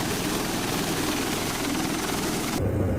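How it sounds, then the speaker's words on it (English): A Bell Boeing V-22 Osprey tilt-rotor aircraft roaring nearby, a loud, continuous rotor and engine drone with a throbbing low beat, shifting in tone near the end. "This is the Bell Boeing V-22 Osprey helicopter."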